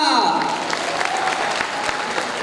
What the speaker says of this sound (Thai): ขอเสียงปรบมือดังให้กับ ท่านบุญเกิด